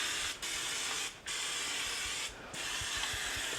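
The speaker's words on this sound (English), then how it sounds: "when I need to give something a spray with olive oil, just like that, I can do it." Refillable oil sprayer misting olive oil over stuffed peppers, a steady close hiss of fine spray broken by three short pauses as it is turned around the food.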